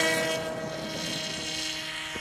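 An RC model 737 MAX airliner with flaps, running on two batteries, drones at a steady whine overhead at an airfield, holding a constant pitch for the whole stretch with no talk over it.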